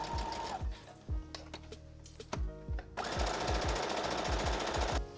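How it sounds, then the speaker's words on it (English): A sewing machine stitches fabric collar pieces in short close bursts of rapid mechanical whirring and needle clatter, with brief pauses between runs and a longer continuous stretch near the end. "I'm going to take this piece and sew along these side edges and the top edge"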